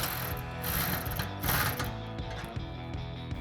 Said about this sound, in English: Then you can take a 16mm socket to tighten that one down.